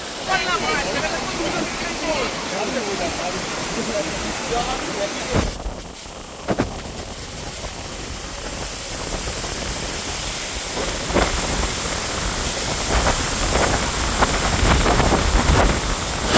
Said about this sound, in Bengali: যে ওয়াটারফলসের জল অনেক উপর থেকে পড়ছে